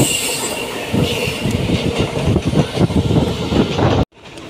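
A passenger express train on the Guntur to Tirupati route running fast, loud rattling wheels and rhythmic clickety-clack close by with squealing metal, ending in a sudden dropout followed by quieter rumble.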